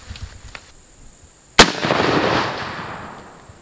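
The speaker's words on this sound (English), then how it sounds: "So now we have the 308, this is a Diamondback." One sharp, loud shot from a .308 Diamondback rifle fired outdoors into a tire cracks out midway and is followed by a long rolling echo that fades slowly.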